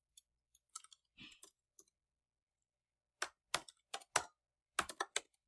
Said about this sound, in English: I'm typing stuff quickly.